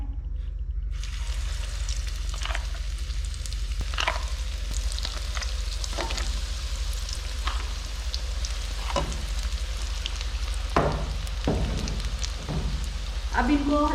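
Small besan pakoras for kadhi, dropped by spoon into hot oil, fry with a constant sizzle and bubbling, with occasional clinks and scrapes from a utensil.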